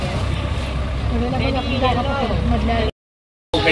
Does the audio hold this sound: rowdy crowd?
no